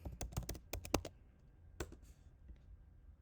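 Typing on a computer keyboard, a quick close run of sharp key clicks that thins into a few scattered taps, quiet and without talk.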